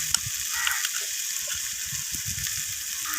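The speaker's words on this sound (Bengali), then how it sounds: "তো রসুনটাকেও আমি মশলার সাথে ভেজে নিচ্ছি।" Garlic paste frying with spices in a pan for a spicy Bengali bhetki fish-bone and kohlrabi curry, a steady broad sizzle with scattered scraping clicks from a spatula, close and continuous, no voices.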